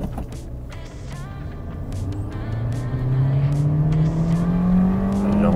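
A Kia Sonet with an automatic gearbox in Sport mode accelerates at full throttle, and the engine drone climbs steadily in pitch and loudness, heard from inside the cabin with a few faint clicks over it.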